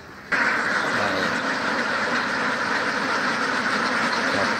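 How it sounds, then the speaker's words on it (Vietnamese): Ducks on a duck farm, down in a canal, make a dense, continuous chorus of quacking that starts abruptly and holds steady, fairly loud and close throughout. "Đoạn này ra đây thì vịt nó đang ở dưới kênh nha các bạn."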